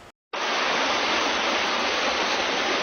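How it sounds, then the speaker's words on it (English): Water from a water main break rushes through a Grand Rapids neighborhood. After a brief moment of silence, a loud, dense, steady roar of torrential flow begins abruptly. "This video shows just some of the gallons of water that came crashing through his neighborhood"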